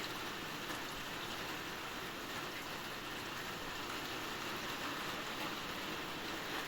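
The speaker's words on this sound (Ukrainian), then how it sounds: "Ось такий дощик спустився гарний." Steady rain falls outdoors, a constant even hiss of drops with no pauses and no voices.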